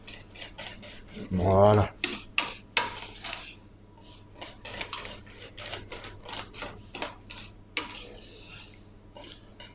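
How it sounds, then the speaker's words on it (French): Semolina blini batter stirred in a bowl with a utensil, giving close, rhythmic rasping and scraping strokes with occasional clinks against the bowl, and a brief spoken word at the start. "Et je remélange ma pâte."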